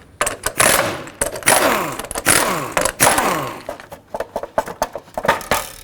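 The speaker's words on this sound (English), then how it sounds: "go ahead and remove the little caps that hold it on with a 19mm socket." A 19mm socket backs off the small hubcap retaining caps on a 2007–2009 Saturn Aura wheel, making repeated close whirring bursts that rise and fall, with pauses between them.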